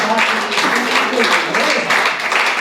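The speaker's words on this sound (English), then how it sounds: "A big round of applause for Sarah." A magic show audience claps for a volunteer, a dense, even wash of applause that runs the whole time, with a voice faintly under it.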